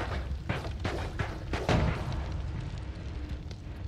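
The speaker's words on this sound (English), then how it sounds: "Oh, everything's on fire now." Fire spreading beside gunpowder in Noita, heard as a run of low, booming bursts and pops that crackle close and loud over about two seconds before settling into a steady, rumbling burn.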